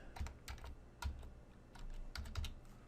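Keys clack on a computer keyboard in short uneven bursts of quick taps, close and quiet, with no voice.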